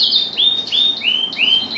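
Small birds in a large indoor aviary flight, set in a bird room about eight feet high at the end of breeding season, give repeated bright rising chirps and tweets, five or six close calls in quick succession with no talking.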